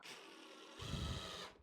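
A power drill drives a 1.25 inch screw into wood while building a small wooden plant holder: a brief, close, rising whir that grows louder and heavier for under a second before cutting off.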